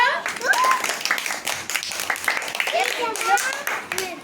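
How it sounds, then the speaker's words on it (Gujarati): Children clap together in a classroom during a counting lesson, giving a rapid, fairly rhythmic run of sharp claps that swell and fade, with young voices calling out over them. "તાળી પાડો."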